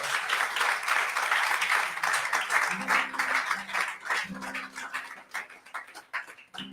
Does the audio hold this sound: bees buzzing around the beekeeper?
no